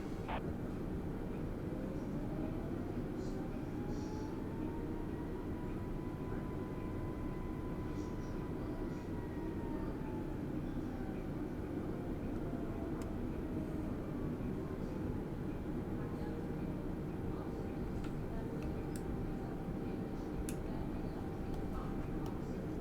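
An airliner takes off in Microsoft Flight Simulator, giving a steady, moderately quiet engine roar with a slowly rising and falling turbine whine that runs continuously throughout.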